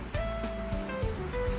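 A stream flowing through green countryside beside a mountain chalet, a close, steady rushing wash of water.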